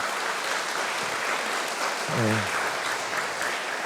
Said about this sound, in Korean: 내빈을 위해서 다 전부에게 박수 부탁드리겠습니다.